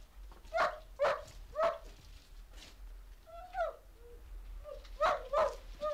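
A dog gives a run of short barks and yips at moderate distance, several spaced calls with brief pauses, no speech over them.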